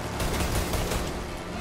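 A quick volley of gunshots rings out in the Mafia 1 video game, a short, fairly quiet burst of overlapping cracks.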